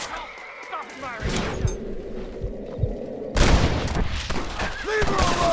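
Gunshots and thuds ring out in Red Dead Redemption, a Western action game, with scattered loud cracks and a burst of fire mixed under raised voices and shouting.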